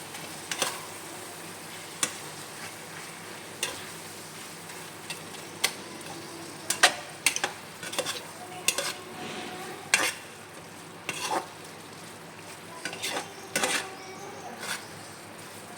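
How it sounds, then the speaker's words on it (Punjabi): Vegetable curry stirred in a pan over low heat, with a spoon scraping and clinking at an irregular pace against a soft sizzle, close up and without talk. "ਹੁਣ ਅਸੀਂ ਇਹਨੂੰ ਅੱਛੀ ਤਰ੍ਹਾਂ ਕਰਾਂਗੇ ਮਿਕਸ"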